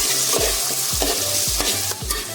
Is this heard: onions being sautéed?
yes